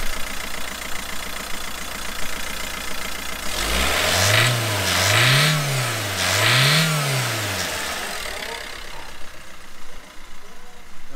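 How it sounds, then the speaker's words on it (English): A rebuilt Vauxhall Combo A13FD engine idles, then revs up three times in quick succession, rising and falling before settling back to a lower hum. "give it a few revs"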